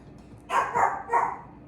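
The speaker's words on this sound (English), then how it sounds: "don't know what he's barking at" Three quick dog barks in a row, fairly close, with a short pause before the last one and quiet background otherwise.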